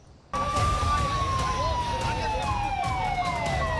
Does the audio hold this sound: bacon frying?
no